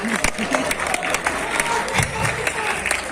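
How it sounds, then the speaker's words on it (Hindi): A live audience at a Hindi poetry recitation about Gorakhpur claps in a sustained, uneven burst of many hands, with a voice speaking over the applause throughout. "तो गोरखपुर का हो वही ताली बजाए, बाहर वाला ना बजाए"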